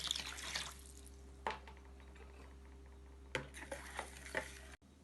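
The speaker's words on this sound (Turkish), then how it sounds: "1 çay bardağı sirkeyi karıştıralım" Lemon salt and vinegar being stirred for summer pickles make soft liquid swishes and a few sharp clinks of a utensil against the container over a low steady hum, ending in a sudden cutoff.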